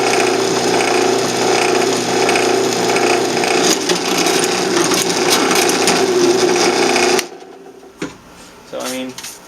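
A loud, steady drill whines and grinds through metal for several seconds, then cuts out, leaving a quieter room with a short voice-like murmur.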